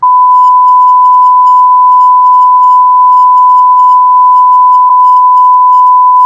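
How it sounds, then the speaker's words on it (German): A censor bleep: one loud, unbroken pure electronic tone held steadily for several seconds, with no talking over it. "Den Piep."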